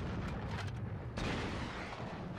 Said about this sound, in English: I thought the explosion would carry through.